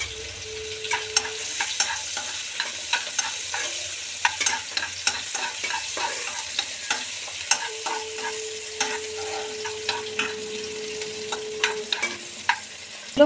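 Chopped onion fries in a pan with bay leaf, whole garam masala and a dried red chilli, a low sizzle under frequent sharp stirring taps and scrapes.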